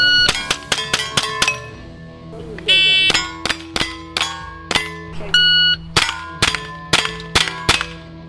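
A shot timer beeps, then a rimfire rifle fires a fast string of sharp, close shots, each followed by ringing clangs of steel targets. A second long beep interrupts the volleys, and a voice is heard faintly between shots.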